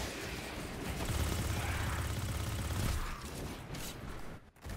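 Rapid, sustained gunfire from a weapon with a very high rate of fire in the Destiny 2 video game, a dense, loud rattling barrage that holds for about three seconds and then tails off.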